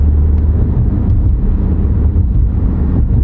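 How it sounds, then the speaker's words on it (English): Tires on a Volkswagen driving on the road, a loud low booming drone of road noise inside the cabin, steady and continuous with a rumbling, slightly wind-buffeted character. "It's the tires. They're notorious for making noise."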